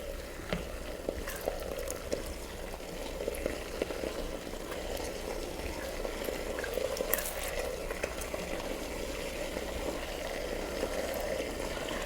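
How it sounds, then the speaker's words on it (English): Whole milk being gently stirred into pumpkin halwa in a hot pan, a steady soft sizzle and bubbling with light scraping stirs throughout, close and even, no talk. "This is full milk or whole milk, I'm sorry. Gently mix them together."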